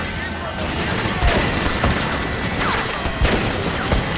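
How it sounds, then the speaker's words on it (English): A Gatling gun fires in Red Dead Redemption, a steady dense roar of rapid shots with sharper cracks poking through, continuous and loud for the whole stretch. "Freaking Gatling gun."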